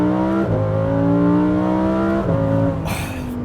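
A Lamborghini Huracan Sterrato's 5.2-liter naturally aspirated V10 revving close and loud, its pitch climbing steadily between two quick shifts, with a burst of hiss near the end.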